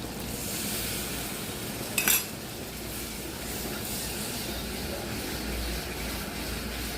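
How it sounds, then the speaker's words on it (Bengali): Water poured from a rinsed container into a cooking pan for a prawn curry: a steady, close rushing hiss that runs the whole time, with one brief metallic clink early on. "এই কৌটোটা ধুয়ে আমি এটা জলটা দিচ্ছি।"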